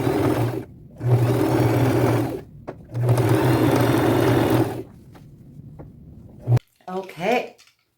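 A sewing machine stitches patchwork onto thrifted jeans in three loud, whirring bursts broken by short pauses, followed by a few brief spoken words near the end.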